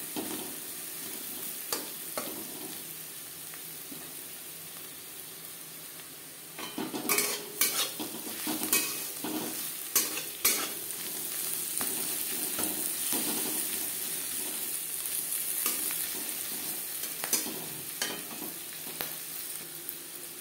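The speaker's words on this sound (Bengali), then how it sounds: "পেঁয়াজ লালচে করে ভাজা হয়ে গেছে।" Onions sprinkled with a little turmeric frying in a pan until reddish: a constant sizzle broken by repeated spatula stirs and metallic scrapes against the pan, close and clear, with no talking.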